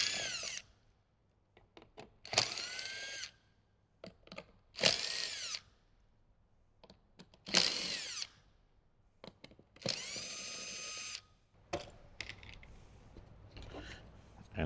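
A power drill removing the five speaker bolts in a 2015–2018 Jeep JK Wrangler during a Sony GS speaker install: several loud whirring bursts, each a second or two, with pauses, clicks and handling noise between them, close by.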